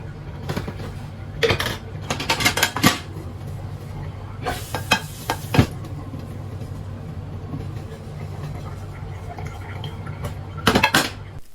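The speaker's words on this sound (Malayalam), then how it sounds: "അപ്പോൾ അതൊന്ന് ഫില്ലാക്കിയിട്ട് ബാക്കിയുള്ള പാത്രം കൂടെ കഴുകിയെടുക്കല" Dishes being washed in a home kitchen, with intermittent clatters and clinks of pots, plates and utensils over a steady low hum, louder bursts scattered among quieter stretches.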